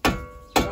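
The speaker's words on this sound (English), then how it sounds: "Hold the hammer like you're supposed to hold the hammer. And hit the side." Two sharp metallic hammer strikes on the side of a BMW E36 328 brake part, close by, about half a second apart, each ringing briefly before fading.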